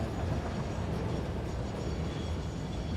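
A train rolls past on a rail line in the video game Satisfactory, a loud, steady rumble with a faint rhythmic clatter that holds level throughout, with no talking.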